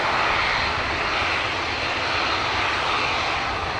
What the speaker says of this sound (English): Ryanair to Vilnius.